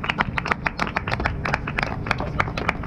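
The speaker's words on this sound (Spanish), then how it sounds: "Y el reconocimiento, aplauso de todos ustedes." Scattered clapping from a small group, a patter of uneven hand claps with faint voices underneath.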